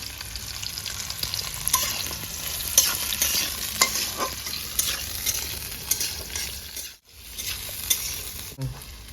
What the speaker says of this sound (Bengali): পেঁয়াজটা ভেজে নেবো বড় সাইজে তিনটে পেঁয়াজ দিয়েছি তার সঙ্গে দিয়ে দেবো চার পাঁচটা কাঁচা লঙ্কা